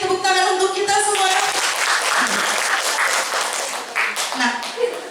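An audience applauds at an indoor dissemination session on positive school culture, a dense burst of clapping that fades gradually over several seconds, with voices mixed in.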